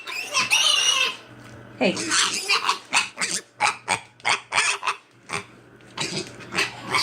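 A pet mini pig squeals and grunts loudly in a rapid run of sharp bursts, with a person briefly speaking over the noise near the start.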